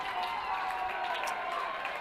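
A crowd roars and applauds after a goal at a boys lacrosse game between American Fork and Corner Canyon, a steady, dense wash of cheering that holds for about two seconds.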